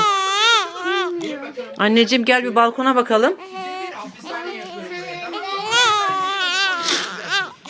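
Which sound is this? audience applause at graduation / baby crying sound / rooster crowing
baby crying sound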